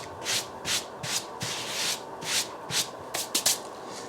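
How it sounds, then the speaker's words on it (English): A bare hand rubs lightly across a top surface in rhythmic back-and-forth strokes, each a soft, close, dry brushing swish, about ten passes with no talking. "Take my hand and just sort of rub that top surface slightly."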